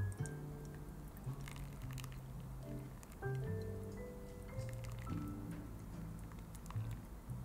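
Hot water is poured slowly over a Tanamera coffee drip bag, giving a faint, quiet trickle and drip with soft wet patters that continue steadily and without any talking.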